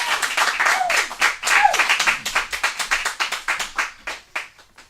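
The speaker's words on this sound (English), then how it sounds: "Everybody, please give a round of applause." Studio audience applauding and cheering as a guest comes on, a loud, dense burst of clapping with a couple of whoops that gradually thins and fades toward the end.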